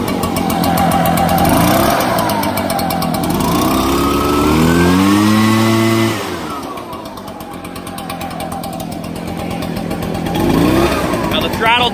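ECHO PB-755SH two-stroke gas backpack blower engine running loud and close, idling roughly and then revving up and easing back down, with someone talking over it.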